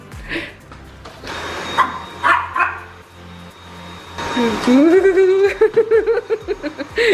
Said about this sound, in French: normalement Yankee il va aboyer